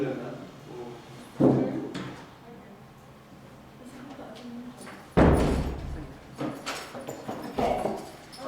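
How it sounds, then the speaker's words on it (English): A classroom door swings shut with a solid thud, then a second heavier knock a few seconds later. Faint voices and room murmur run underneath. "I'll just close the door and we won't come through"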